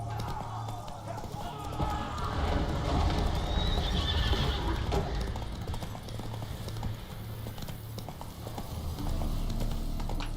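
In the video game The Witcher 3, a horse gallops with steady, rhythmic clip-clop hoofbeats under a busy game soundscape while a voice speaks over it.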